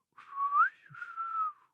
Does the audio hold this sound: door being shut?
no